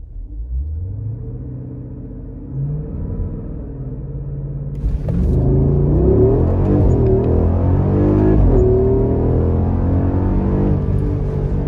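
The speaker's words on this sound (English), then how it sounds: "get a faster reaction time from 0 to 100 with paddles at 2000 RPM" A car pulling away hard from a standstill using paddle shifters, engine note climbing in rising sweeps with audible gear changes, loud and close from inside the cabin.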